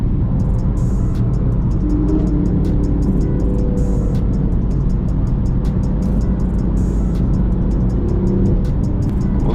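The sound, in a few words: manual BMW M4 Competition driving, engine and exhaust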